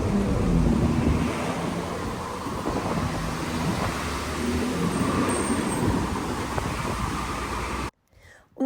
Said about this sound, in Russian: Ой, ветер такой, хотя бы ничего на голову не свалило.